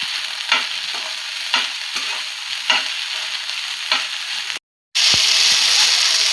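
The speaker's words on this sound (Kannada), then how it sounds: "ಒಂದು ಸ್ಪೂನ್ ತುಪ್ಪ ಹಾಕಿ ಇದನ್ನು ಮಿಕ್ಸ್ ಮಾಡ್ಕೋಬೇಕು ರೀ." A spoon stirs ghee into motichur laddu mixture in a hot pan, sending out a loud continuous sizzle with rhythmic scraping strokes about once a second, then a brief cut to silence before the frying resumes.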